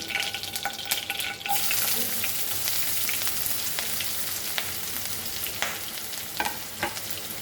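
Curry leaves and onion dropped into hot oil for a mutton bheja bhurji, setting off a loud, steady sizzle with a sharp burst near the start and occasional stirring clinks, no speech.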